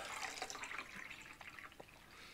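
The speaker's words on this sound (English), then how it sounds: "And we need more water in that cup." Water pours from a kitchen tap into a cup, a soft steady trickle with faint splashing and gurgles as the level rises, quiet and close.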